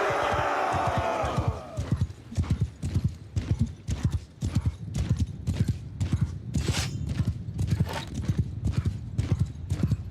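Horses gallop in the Warhammer Old Realms mod of Bannerlord, a rapid rhythmic clip-clop of many hooves that runs the whole time, with a horse whinny near the start and some battle noise underneath.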